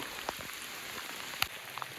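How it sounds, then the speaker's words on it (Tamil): Rain falls in a Western Ghats forest as a steady, soft wash of drops, with a few sharper nearby drips on leaves and no voices. "மழை குறைஞ்சிருச்சு,"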